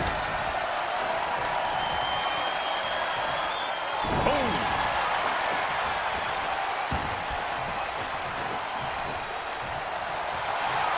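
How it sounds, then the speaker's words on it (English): Capacity crowd at a WWE casket match in a wrestling arena, a steady loud roar of cheering and applause with a sharp slam-like thump midway, under commentary. "you hear this capacity crowd following you on that journey"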